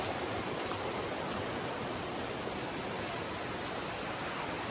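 Rushing water at Khun Korn waterfall in Chiang Rai, a continuous broadband roar that stays even and steady throughout, with no voices.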